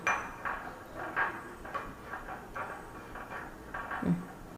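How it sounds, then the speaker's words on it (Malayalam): Glycerin being stirred into aloe vera gel in a bowl with a utensil, giving a string of light, fairly even scraping and clinking strokes close by, with no talking. "എന്നിട്ട് മിക്സ് ചെയ്യണം നന്നായിട്ട്"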